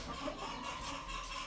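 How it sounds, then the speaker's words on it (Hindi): Chickens and roosters cluck softly on a crowded farm, brief low calls against a steady background hum, fairly distant and with no speech. "मेरे कुछ मुर्गों के साथ मादियाँ क्यों खड़ी हुई हैं?"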